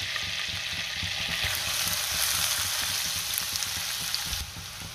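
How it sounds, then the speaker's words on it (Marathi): Onion and whole spices frying in hot oil and butter for a mushroom masala, giving a dense, continuous crackling sizzle that holds steady and then eases slightly near the end. "तेल आणि बटर गरम झाले, त्यामध्ये हे खडे मसाले घालूया। त्यातच आपल्याला कांदा घालायचा आहे"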